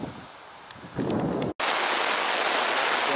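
Heavy rain in a storm while cycling across Michigan's Upper Peninsula, a dense steady hiss that swells louder after the first second, with a brief dropout midway before the downpour resumes at full strength.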